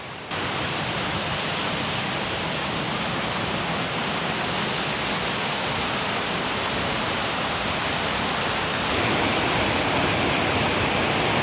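The Duck River in Tennessee flows in a steady, broad rushing wash of water. It is loud and continuous for the whole stretch, with no voices.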